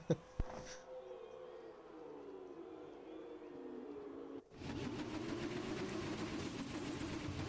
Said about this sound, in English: Excuse the engine noise